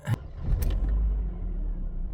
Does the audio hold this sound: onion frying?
no